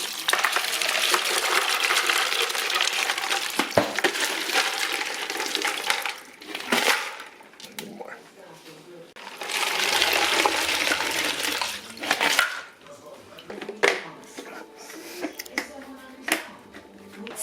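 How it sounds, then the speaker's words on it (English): A gallon of iced water is poured into turkey brine in a bucket, coming in two splashing bursts separated by a quieter stretch, with scattered clinks and knocks between them. "you're going to add a gallon of iced water"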